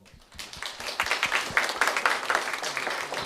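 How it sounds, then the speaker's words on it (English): Applause from an audience at an entertainment industry panel, dense clapping that swells after a quiet start and holds steady and fairly loud, with no talking over it. "give some applause"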